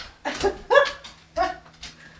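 Small dogs whimper and yip indoors, with three or four close, high, wavering whines and yips in quick bursts.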